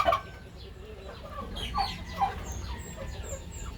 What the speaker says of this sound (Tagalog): Dito yung mga nag-iitlog, naglilimlim na pabo.